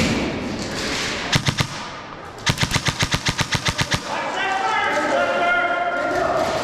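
Airsoft gun firing semi-automatic in a speedsoft arena: a short burst of sharp cracks, then a rapid run of about a dozen evenly spaced shots, loud and close, with players talking over the background.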